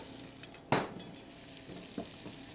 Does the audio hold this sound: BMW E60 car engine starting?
no